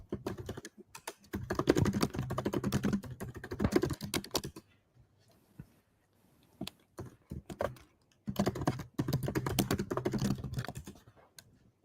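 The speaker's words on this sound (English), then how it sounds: "You have very loud keyboards" Loud computer keyboard typing, heard close up during an online call: rapid clattering bursts of keystrokes, then a quieter stretch of a few scattered taps, then another long run of fast typing.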